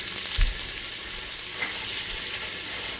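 Onions sautéing in grease in a pan, a steady close crackling sizzle with a brief thump of stirring near the start, continuing evenly to the end with no voices.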